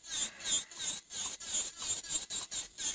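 An electric nail drill bit files down gel nails in short, repeated rasping passes, about eight quick strokes with brief gaps, close and fairly loud with a high whirring edge.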